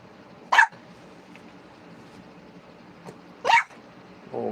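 An adult dog gives two short, sharp barks about three seconds apart, heard at moderate distance over a quiet background hum.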